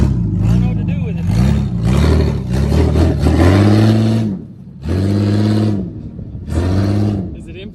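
A remote-control jeep in four-wheel drive whirs loudly close by, its motor rising and falling in several distinct revving bursts separated by brief pauses.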